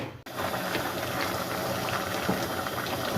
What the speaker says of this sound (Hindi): जी कद्दू को मैंने रखा हुआ था बॉयल होने के लिए ताकि ये अच्छी तरह गल जाए।